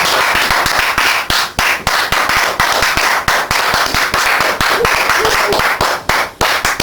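A church congregation claps loudly and close by, with sharp rhythmic hand claps in a steady beat over a layer of cheering voices.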